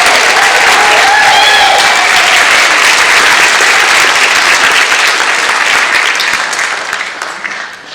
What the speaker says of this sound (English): We just have to have another round of applause for Mr. Jim St. Clair